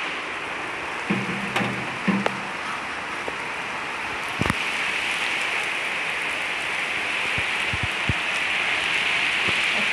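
Steady rain falls across the whole stretch, a continuous hiss with scattered drops and a few louder knocks near the start, no voices present.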